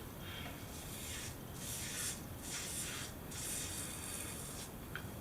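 A Merkur 34c HD safety razor with a Feather blade shaves a head: soft close scraping strokes repeat in a slow rhythm over a constant faint hiss, with no talking.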